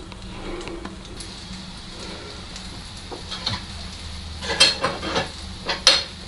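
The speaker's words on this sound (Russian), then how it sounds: "Вот я обжариваю последнюю партию сырников" Syrniki, cottage cheese pancakes, fry in a pan with a steady soft sizzle and occasional sharper spatters and pops near the end, close and fairly quiet.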